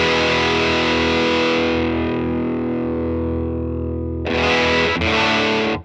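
Electric guitar played through a RAT distortion pedal by Taiwam, a loud sustained distorted chord ringing out and slowly decaying, then fresh strummed chords crashing in near the end.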